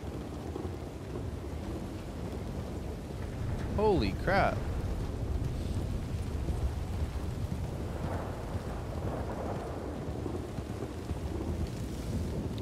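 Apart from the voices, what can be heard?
thunder from a lightning strike during a storm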